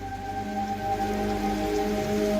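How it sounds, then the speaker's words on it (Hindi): Heavy rain pouring down in a village near a forest: a constant dense hiss of falling water over steady low tonal hums, even and unbroken throughout. "अचानक तेज बारिश शुरू हो गई। इतनी जोर से बारिश होने लगी"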